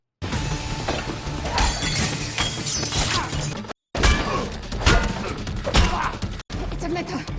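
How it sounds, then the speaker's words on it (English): Gun battle from the 2025 action film Ballerina, with glass shattering amid continuous loud crashing and rapid gunfire bursts over about seven seconds, broken by two brief gaps. "just looked like the perfect place for a little gun battle"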